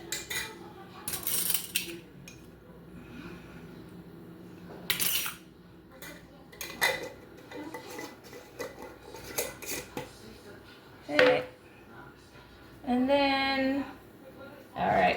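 A utensil mixing sugar, salt and other cinnamon roll ingredients in a bowl, with irregular scraping and clinking of metal against the bowl, some sharp taps, and a brief squeaky rub near the end.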